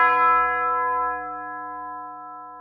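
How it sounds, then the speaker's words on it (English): A single deep bell tolls once, its rich harmonic ring sustaining and slowly fading with no other sounds around it. "each new year is marked by the sound of a tolling funeral bell"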